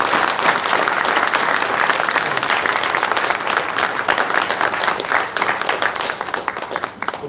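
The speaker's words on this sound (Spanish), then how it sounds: "Fuerte aplauso." A congregation applauds at a Catholic Mass in church, with steady, loud sustained clapping from many hands that fills the whole stretch and tapers slightly at the end.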